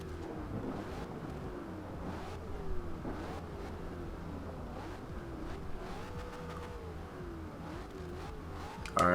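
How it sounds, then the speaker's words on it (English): A 2015 Ford Mustang GT engine in the video game Forza Horizon 2 revs repeatedly, pitch rising and falling in waves over a steady idle rumble, with a few sharper bursts and no talking. "that's what the exhaust sounds like."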